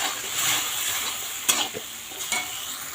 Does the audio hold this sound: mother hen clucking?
no